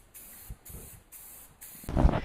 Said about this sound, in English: we put a couple coats of semi-gloss spray paint